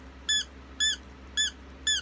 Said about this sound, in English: See if it squeaks.